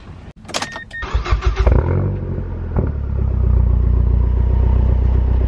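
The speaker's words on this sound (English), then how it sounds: "By the way, that was not a cold start." A Honda car engine starts from warm, with a clattering crank and catch over about two seconds. It settles into a loud, steady low idle close by.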